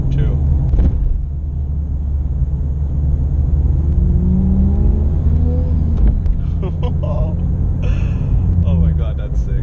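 A turbocharged wide-body BMW E36 car driving by, a steady low engine rumble with a faint rising whir, while a person talks over it.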